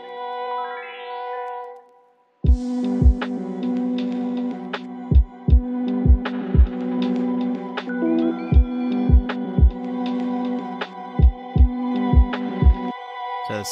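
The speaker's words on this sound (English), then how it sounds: "I have this guitar that's reversed but also stretched. And this is consistently going up." A reversed, time-stretched guitar swells upward in pitch in an electronic music track. It then gives way to a full arrangement with sharp, regularly spaced kick hits.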